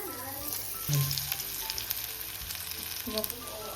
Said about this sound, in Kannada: ಇವಾಗ ಚೆನ್ನಾಗಿ ಎಲ್ಲ ಫ್ರೈ ಮಾಡೋಣ.